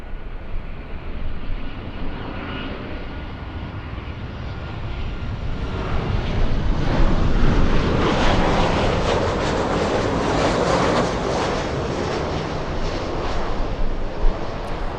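A Southwest Airlines plane taxiing, a steady jet engine rumble that swells gradually louder and broader toward the middle, then holds as a sustained roar with no voices.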